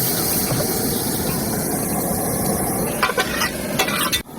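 Crab malaikari curry with milk boiling in a pot during outdoor cooking by a river in the Sundarbans, a steady loud bubbling and hissing roar with a few scraping knocks near the end.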